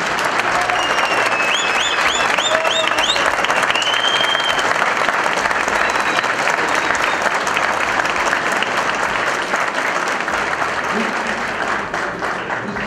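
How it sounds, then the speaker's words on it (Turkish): Applause fills a hall at a Turkish yacht captains' association workshop, sustained crowd clapping at full strength that tapers slightly near the end, with occasional whistles and voices mixed in. "Lütfen bunları alkışlar mısınız?"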